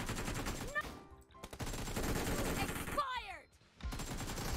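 Dense bursts of automatic gunfire from a PUBG Mobile team deathmatch on Erangel and Livik, rapid close shots in long runs with brief gaps, someone talking over the action.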